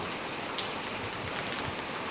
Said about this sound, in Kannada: ಮಳೆಯಲ್ಲಿ ಹಲವು ವಿಧ ಭಾರಿ ಮಳೆ ನಿಧಾನ ಮಳೆ ತುಂತುರು ಮಳೆ